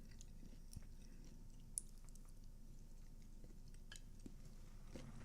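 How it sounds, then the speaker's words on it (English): Quiet, close-up crunchy chewing of food, with soft irregular bites and squishes over a low background hum and a faint clink or two, no speech. "Sounds crunchy. I'm sorry, you're not supposed to hear what I'm eating."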